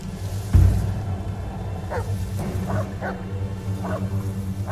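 A dog in the video game Blair Witch barks several times at a distance, sharp yelps over a low rumbling ambient backdrop.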